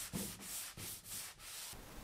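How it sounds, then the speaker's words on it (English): Wood is sanded smooth by hand with 400 grit sandpaper on the edges of a painted chest of drawers, a soft, even hiss in four or five steady strokes, quiet and close. "I just sanded the rest smooth with a 400 grit"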